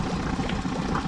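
A four-stroke outboard motor on a rooftop dinghy idles steadily, a close, continuous low engine rumble that fills the whole short stretch with no talking.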